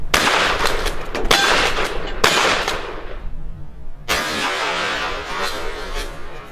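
Shotgun loaded with hunting rounds fired at a watermelon at a teachers' active shooter training event, three loud, sharp blasts spaced a second or two apart, each followed by a long, broad decaying boom.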